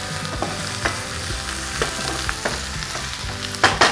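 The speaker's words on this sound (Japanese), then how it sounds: "さあもう少し玉ねぎも色が変わるまで炒めていきましょう。" Onions stir-fried in a pan for a grilled summer vegetable curry, sizzling steadily with a spatula scraping and clinking now and then, close up and with no talk.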